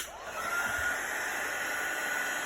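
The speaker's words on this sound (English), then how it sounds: "So again, I'm just holding that heat gun still" A heat gun blows steadily as it melts embossing powder on a snowflake tree and reindeer card: a constant close, loud whooshing roar of hot air that holds even throughout, with no talking.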